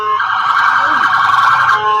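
A passing ambulance siren outdoors, a loud steady wailing tone that fills the clip while people talk over it.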